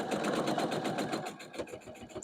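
A sewing machine stitches quilt petals together in a quick, even, rhythmic whir of needle strokes, close and moderately quiet, running steadily without talk.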